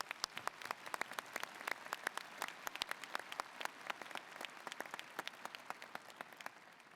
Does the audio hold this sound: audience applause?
yes